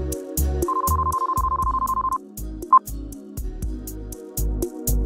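A telephone ringtone sounds in a voiced Red Spider drama: a sustained electronic ring tone holds for about a second and a half, then a short chirp follows, all over steady rhythmic background music.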